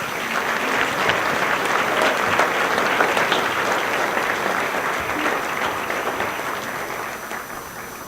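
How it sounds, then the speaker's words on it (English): An audience claps steadily for student artists at a school art awards ceremony, a dense, sustained round of applause that stays loud from start to finish with no voices over it. "please join me in applauding these outstanding student artists."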